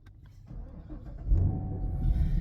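A V8 engine in a Chevrolet Camaro LT1 cranks and catches via push-button start, then settles into a deep, loud rumble close by.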